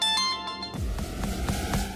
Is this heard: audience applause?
no